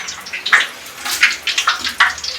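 Tea poured from a height streams and splashes into a cup in short repeated gushes, close and fairly loud with no voices.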